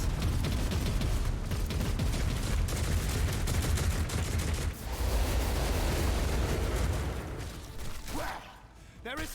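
Defense turrets in the Rogue Trader video game fire in a dense, sustained barrage of rapid shots and blasts, loud and continuous with a brief dip midway, tapering near the end as game effects and a voice come in.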